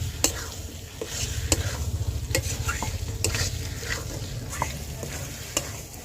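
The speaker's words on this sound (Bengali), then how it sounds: "ভালো করে 2 মিনিট কষিয়ে নেবো" Potato curry masala being stir-fried in a pan, a continuous close sizzle broken by regular spatula knocks and scrapes against the metal, keeping a steady stirring rhythm.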